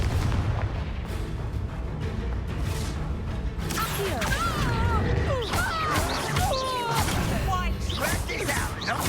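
A Confringo spell blast in the Hogwarts Legacy video game: booming explosive hits and whooshing magic effects layered over busy combat sounds, with a voice casting the spell.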